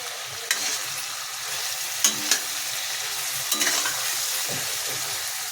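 Vangi bath ingredients, brinjal among them, fry in oil over a high flame, a continuous close sizzle broken by a few sharp scrapes and clinks of a spoon stirring against the pan.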